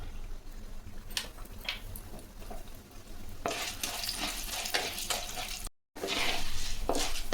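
Urad dal frying in hot sesame oil for a mint pickle, a dense continuous sizzle that swells louder partway through, with a brief dropout and stirring scrapes.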